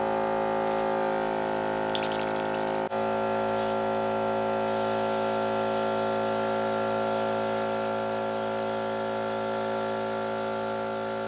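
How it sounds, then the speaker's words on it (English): A small airbrush compressor hums steadily and loudly while paint is back-bubbled in the cup to mix it, with a hissing spray note and a few brief chirpy bursts over the constant drone. "Now I'm going to turn my compressor on and back bubble to mix these two together."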